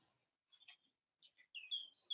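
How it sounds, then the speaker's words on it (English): Birds give a few quick, high chirps and short tweets with pauses between them, then a brighter run of calls at the end, faint against near silence. "The birds, I was waiting for a chatter with the bird."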